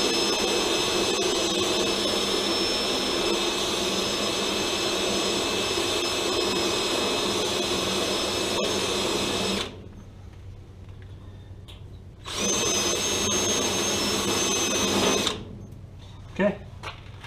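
A drill grinds loudly for about ten seconds drilling out a spot weld on a Model A front quarter panel, stops, then runs again in a shorter burst before going quiet with a faint knock.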